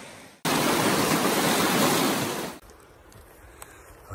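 A high river rushing in the New Zealand backcountry, a loud broad roar of water that cuts in abruptly, holds steady for about two seconds, then drops away to a quieter outdoor background.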